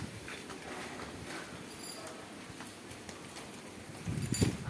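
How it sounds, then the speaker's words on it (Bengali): Light rain falls outdoors in a soft, steady, faint patter that continues throughout, with a slightly louder rustle near the end. "হালকা বৃষ্টি হচ্ছে।"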